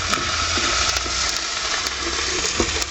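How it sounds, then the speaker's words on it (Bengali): Water goes into a pan of fish curry masala made with chilli, ginger and cumin paste, giving a dense, loud, continuous rushing sizzle close up, with faint clinks here and there. "একটু জল দিয়ে দিচ্ছি।"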